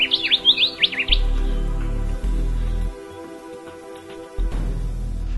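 Small birds sing in Western Australian bush along the Holland Track, a quick run of bright chirps and twittering notes up front, followed by lower, steadier tones and quieter background calls.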